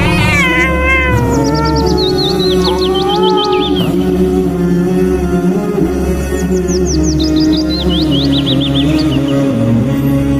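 A cat meowing: a loud, drawn-out caterwaul followed by rapid, wavering repeated cries, heard close and alone over a steady low hum.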